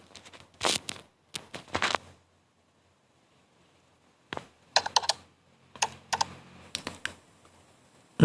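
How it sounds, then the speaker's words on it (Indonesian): Keyboard typing sound effect, used for a typewriter-style text effect in KineMaster: several quick bursts of clattering keystrokes separated by pauses, close and clear with no talk. "Nah, ini ada dua sound effect keyboard."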